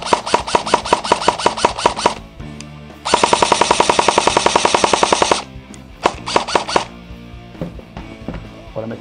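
An airsoft M4 rifle by Saigo Defence, running on a 7.4 V battery, fires three close, loud bursts of rapid mechanical shots, with the longest burst in the middle.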